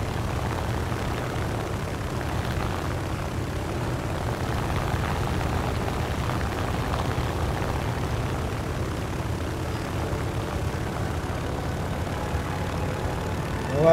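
A propeller aircraft flying in the video game War Thunder, its engine a steady, loud low drone that holds evenly throughout without pause, with no talk over it.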